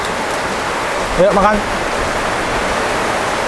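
Steady roaring wind and heavy rain fill the air, with a brief spoken voice rising over the storm noise partway through.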